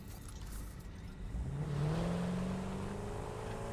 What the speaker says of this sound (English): because you commented about that super satisfying engine